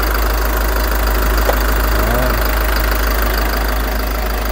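A Hyundai Mighty EX8 GTL truck's 2.9-litre, 160 hp turbo diesel idles with the cab tilted open, a loud, even, continuous rumble that holds steady throughout.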